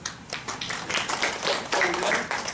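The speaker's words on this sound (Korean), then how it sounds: "박수 한번 주세요" A small lecture audience claps briefly at a teaching seminar on smart devices, a short patter of hand claps at moderate distance with no talk over it.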